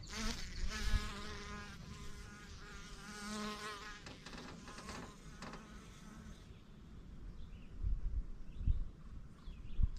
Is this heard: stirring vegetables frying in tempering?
no